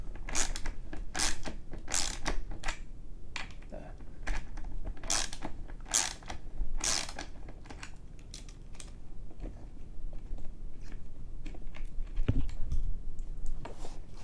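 Close, crisp clicking and ratcheting as a skateboard's hardware is tightened, with sharp metallic ticks in bursts and a soft mechanical creak near the end, no talking.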